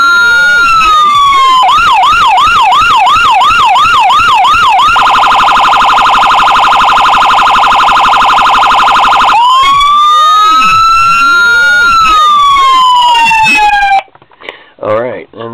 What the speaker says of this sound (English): just to go to show you, just show you that the siren is in there.